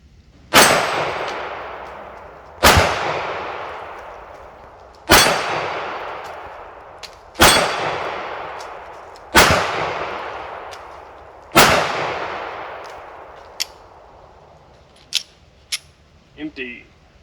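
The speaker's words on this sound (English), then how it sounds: "LCP on the dueling tree." A Ruger LCP .380 pistol fires six sharp shots at a measured pace, each followed by a ringing clang of rounds striking a steel dueling tree. A few lighter metallic clicks and taps come at the end.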